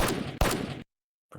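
Two back-to-back gunshot sound effects, each a loud, sharp broadband crack with a short distorted tail, then a gap of silence and the start of a third blast.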